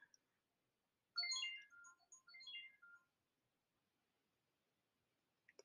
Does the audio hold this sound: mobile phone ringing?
yes